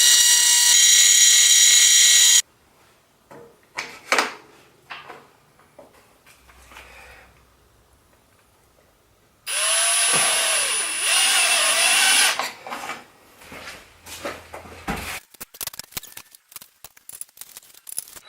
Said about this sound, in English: drill a hole there and about there, and then drill through both of them and tap the backside